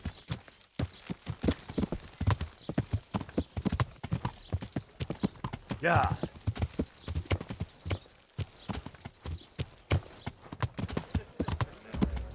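Steady horse hooves clip-clop in a quick rhythm in the video game Kingdom Come: Deliverance, with a brief whinny partway through and a single short shout near the start.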